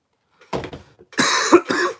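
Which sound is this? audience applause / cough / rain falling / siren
cough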